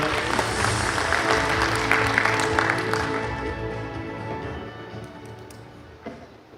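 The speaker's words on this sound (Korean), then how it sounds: "Please welcome him with a big round of applause." An audience at a hotel vision-proclamation ceremony gives a round of applause for an incoming speaker, a dense clapping wash that fades gradually over several seconds into a quieter room.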